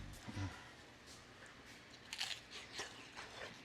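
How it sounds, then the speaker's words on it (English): A single crisp crunch of a bite into fried whiting fish with a flaky coating, followed by a few quieter chewing crunches, close and fairly soft with no talking. "Now I'm gonna taste this fish"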